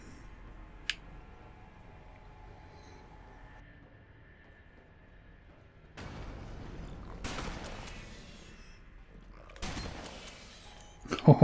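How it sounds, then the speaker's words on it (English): A shotgun-like weapon in the video game Alien Breed 2: Assault fires a few sharp blasts over a low mechanical hum, with louder bursts of gunfire and impacts clustering toward the end. "I'm gonna play with this gun for a while. Feels like a shotgun."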